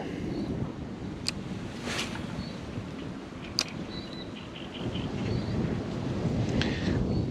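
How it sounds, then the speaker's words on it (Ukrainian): Steady outdoor wind rumble buffets the microphone throughout, with a few faint high chirps and brief clicks on top; no talking. "Тут майже завжди боковий вітер"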